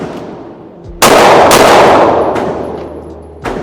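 Gunshots ring out at a shooting range: a sharp loud report at about one second followed by a second shot and ringing decay, then another quick crack near the end, close and alone without talk.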